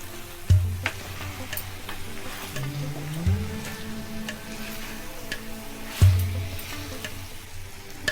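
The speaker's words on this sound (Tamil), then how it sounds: "சிக்கன் சேர்த்து நல்லா வதக்கிடலாம்." Chicken sautéing in a pan for a traditional chicken chinthamani: a steady, moderate sizzle runs throughout, broken by three dull utensil knocks against the pan. No one speaks.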